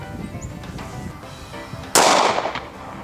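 A single sharp gunshot from a 9mm Remington 115 grain full metal jacket round fired at expired body armor cracks loudly after quieter background noise, then rings and decays over the next second.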